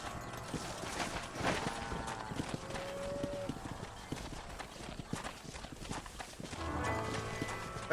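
Horse hooves clip-clop steadily and fairly close in the video game Red Dead Redemption, a continuous walking rhythm over soft background ambience with no speech.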